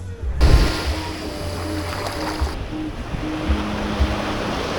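Gentle Mediterranean Sea waves wash onto the shore near Side, Antalya, with a soft, steady rush, wind noise rising briefly near the start.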